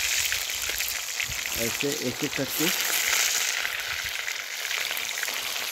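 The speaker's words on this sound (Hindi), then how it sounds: "तो गर्म तेल में क्या करेंगे कि ये डालेंगे" Catfish (magur) pieces dropped one by one into hot oil, giving a steady broad frying hiss throughout, with someone speaking briefly over it in the middle.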